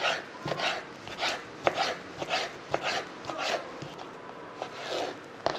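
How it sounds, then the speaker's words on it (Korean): A knife slices prepared gizzard shad for sashimi into long strips, giving soft, regular cutting strokes against a board about once a second, close and fairly quiet, with no talking. "이쪽에서부터 이렇게 길게 썰어줍니다."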